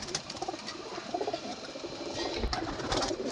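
Madrasi pigeons coo softly in a loft, low throaty murmurs repeating amid faint background rustle, fairly quiet and close.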